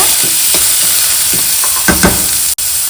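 Finely chopped onion with cumin sautés in a pan for beans poriyal. A loud, continuous sizzle is broken by several soft scraping stir strokes and one sharp click near the end.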